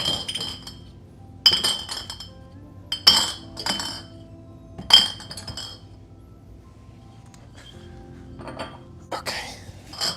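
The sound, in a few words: glass beer bottles clanking together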